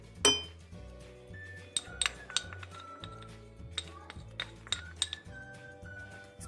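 A metal spoon clinks repeatedly against a bowl or glass while cornflour is mixed into milk, giving quiet, close, irregular bright taps with brief ringing tones.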